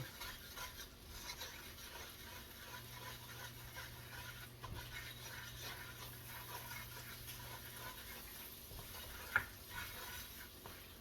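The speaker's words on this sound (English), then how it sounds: "Get back to stirring that roux" A flour and oil roux being stirred in a pan for biscuits and gravy, giving a steady soft scraping and faint sizzle throughout, with one sharp clink of a utensil near the end and no talking.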